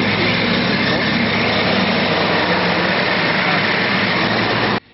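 Large snowplow machine fitted with chains working in deep snow in Volos, its engine running with a loud, steady diesel rumble that cuts off abruptly near the end, with voices over it.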